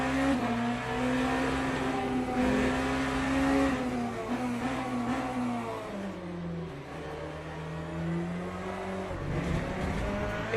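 A race car in the Le Mans Ultimate VR sim at Portimao, its rear end twitchy, with a loud engine note climbing and dropping through upshifts and downshifts. Pitch swoops rise and fall steadily with no talk over it.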